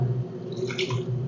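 A little water poured into a spiced homemade mango pickle mixture, a brief close trickle and splash of liquid with no voices.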